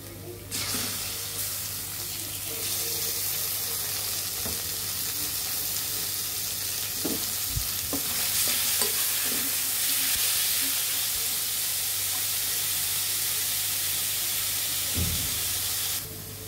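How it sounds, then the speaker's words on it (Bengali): Chicken pieces frying in a pan with onion and ginger give off a steady, loud broadband sizzle that holds nearly unbroken for the whole stretch, with a few scattered clinks of stirring. "আমরা এখন চিকেনগুলো দিয়ে দিব।"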